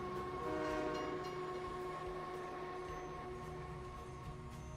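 A train runs continuously in a video game, a steady mechanical rumble with sustained tonal hum layered over it, loud and unbroken throughout with no talking.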